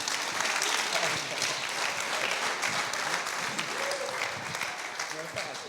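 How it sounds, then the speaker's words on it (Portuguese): A church congregation claps together at a Pentecostal service, steady dense applause filling the room from start to finish, with voices mixed into the crowd noise. "Dê uma salva de palmas a Jesus."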